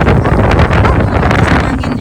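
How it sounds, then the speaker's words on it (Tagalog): Strong wind roars and buffets the microphone outdoors in the UK, a loud, steady rush that fills the whole moment with no voices. "Lakas ng hangin."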